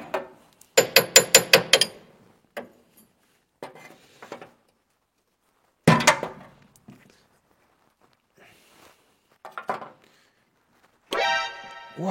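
Metal parts being unscrewed on the fuel filter of an old Mercedes van, unstarted for 44 years: a quick burst of sharp, rhythmic metallic clicks and clanks, then scattered scrapes, knocks and handling noises with quiet gaps between, close by.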